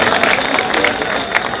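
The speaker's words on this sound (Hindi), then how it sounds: "हमारे एक एक कार्यकर्ता के लिए पहले जोरदार तालियां बजाइए" A large crowd at an AAP political rally for the 2025 Delhi election bursts into loud, dense applause, a steady roar of many hands clapping at once with no pause.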